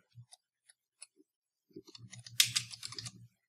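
A few scattered clicks, then a quick run of keystrokes on a computer keyboard as a search is typed into the Windows 10 Start menu; the tapping is close, crisp and uneven, with no talking.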